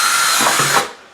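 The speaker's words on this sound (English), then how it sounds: "I'm going to drill a hole" A power drill boring a hole in a plastic mushroom-growing container filled with spent coffee grounds, a loud steady whirring grind for under a second that cuts off abruptly into quiet.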